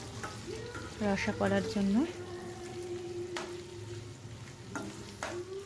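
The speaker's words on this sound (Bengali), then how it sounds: "আর একটা ওভেনে আমি পনিরগুলো হালকা করে ফ্রাই করে নিচ্ছি" Paneer pieces fry lightly in a pan on the stove, giving a steady soft sizzle throughout, while someone speaks briefly near the start.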